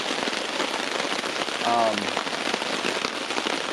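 Heavy rain from a thunderstorm on a mountain pours down steadily in a loud, dense hiss of drops hitting a surface, with a brief tonal squeak partway through.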